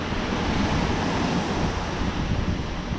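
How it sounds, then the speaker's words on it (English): Caribbean Sea waves wash continuously onto a quiet resort beach at La Toc, St. Lucia, a steady broadband surf roar mixed with wind buffeting the microphone, with no voices. "that sound of the ocean, or actually this is the Caribbean Sea, the sound of that water is really relaxing"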